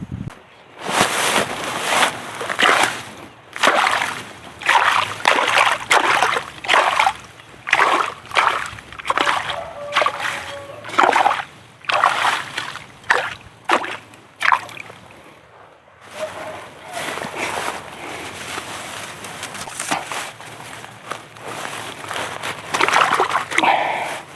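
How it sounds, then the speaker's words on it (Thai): Someone wades through shallow water while setting fishing hooks for snakehead, making a string of rhythmic, fairly close splashes and sloshes with short pauses between strides, about two dozen in all. "ไปใส่เบ็ดไปลุยน้ำกันครับ"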